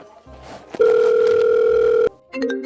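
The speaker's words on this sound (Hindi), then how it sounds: "अरे कहीं को फोन आए रो भाई" An electronic telephone ring sounds once as a steady tone lasting over a second, then another tone starts, with faint background noise around it.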